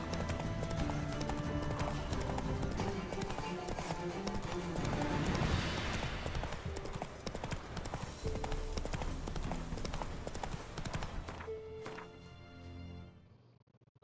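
Roach, a horse in the video game Witcher 3, galloping with a steady, rapid clip-clop of hooves over loud game music and ambience, a brief whinny possible, before the sound fades near the end.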